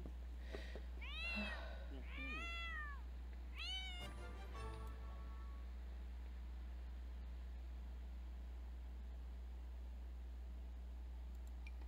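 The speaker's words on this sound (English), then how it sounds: "Cat!" A cat in a life-simulation game gives a few clear, rising-and-falling meows in quick succession over a low steady hum, followed by quieter background noise.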